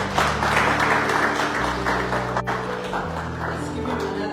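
Audience applause at a meeting, a steady broadband patter of clapping that holds for the whole stretch over a low, sustained tonal hum.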